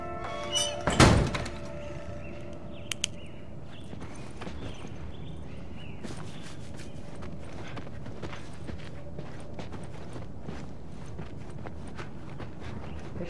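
A heavy door slams shut in The Last of Us video game with one loud, sharp thunk near the start, followed by a quieter knock and a steady low game ambience with faint footsteps.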